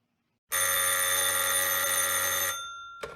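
A telephone bell rings loudly and continuously for about two seconds, a bright harmonic trill that then cuts off, followed by a short clatter.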